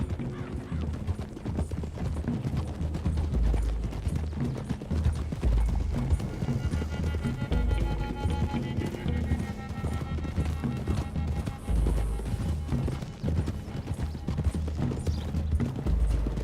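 A group of horses trots along a road in Red Dead Redemption 2, hooves clip-clopping in a steady, dense rhythm throughout, with occasional snorts and a faint whinny mixed in, close and continuous.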